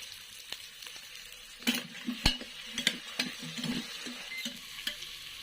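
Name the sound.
sautéing onion and tomato in a pan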